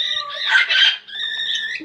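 A baby cockatiel gives a short, close, warbling whistle-song, with a wavering tonal phrase broken by a brief raspy burst in the middle.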